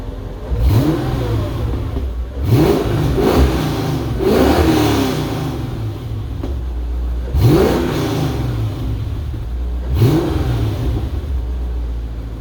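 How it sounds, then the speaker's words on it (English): A Mercedes-Benz W211 E55 AMG V8 engine with stock mufflers and long-tube headers revs hard in repeated bursts, each throttle blip swelling to a deep roar before falling back to a rumbling idle, loud and close. "a cold start clip or rev clip of how it sounds right now with stock mufflers and long tubes"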